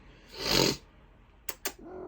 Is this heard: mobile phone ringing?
no